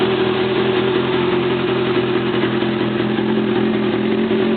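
A 1988 Honda CBR600 Hurricane motorcycle with rebuilt, synchronized, rejetted carburetors runs steadily at a close, loud, even idle, with a constant drone and no revving or speech.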